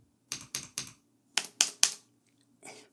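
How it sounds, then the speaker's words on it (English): Keystrokes on a computer keyboard in a sound test, clattering in two quick bursts of three sharp clicks each, with a softer keypress near the end, close and clear with no talk. "that is such an amazing sounding keyboard"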